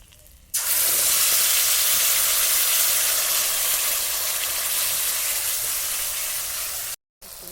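Mustard, cumin and ginger paste hits hot oil with black cumin already in the pan, bursting into a loud, steady, close hiss that holds for several seconds before briefly cutting out.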